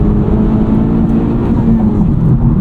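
A tuned FL5 Honda Civic Type R running a COBB Accessport tune, accelerating in fifth gear from around 3,000 RPM, a loud, steady low engine drone heard up close from inside the cabin, with no talking.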